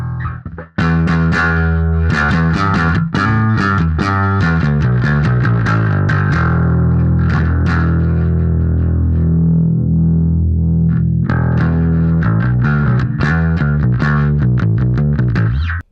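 An electric bass plays a continuous run of notes with a gritty, processed tone through a Quad Cortex amp modeler, loud and up front with no talking.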